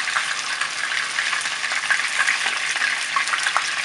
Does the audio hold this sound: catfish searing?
yes